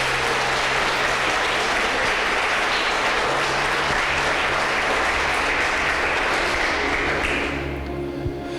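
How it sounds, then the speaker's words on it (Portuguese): A church congregation applauding during a service: dense, loud, continuous clapping from a large crowd over a low steady hum, which fades out near the end. "Então aplaude a Deus,"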